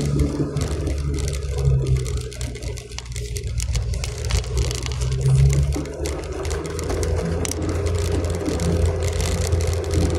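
A vehicle engine runs steadily on a drive up to Uraya Peak in Talaingod, a constant low rumble with rattling and road noise throughout.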